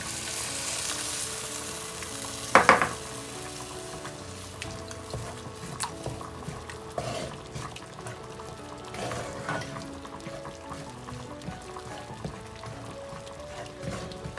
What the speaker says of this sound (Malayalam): കുറച്ച് പുളിവെള്ളം ഒഴിച്ച് ഇങ്ങനെ വഴറ്റിയെടുക്കുമ്പോൾ പൊടികളൊന്നും കരിഞ്ഞും പോകത്തില്ല.